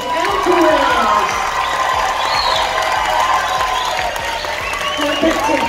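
A cruise ship audience on the Carnival Celebration claps and cheers loudly for the captain, a dense, sustained roar of applause and shouts with a voice speaking through it.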